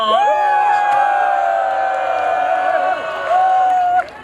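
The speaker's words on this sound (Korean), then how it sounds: "응원의 함성 한 번만 더 부탁드릴게요" An outdoor crowd at a Liberty Korea Party protest rally in Gwanghwamun lets out a sustained cheer with long, tonal shouts that hold for about four seconds before cutting off sharply.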